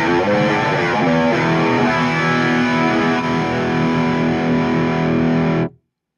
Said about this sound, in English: Now let's hear that with a flanger pedal turned on.